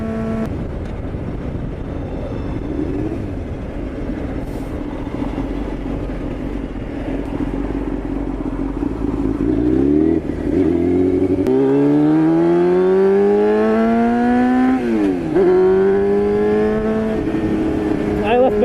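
A sport motorcycle engine drones steadily, then climbs in pitch as it revs and accelerates, dips briefly, and rises again amid surrounding street traffic noise.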